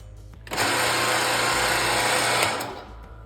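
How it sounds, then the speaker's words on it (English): A Ritter 13-spindle gang drill for cabinet shelf pin holes starts up with a steady high whine and motor hum, running evenly for about two seconds before spinning down. "This is a Ritter gang drill"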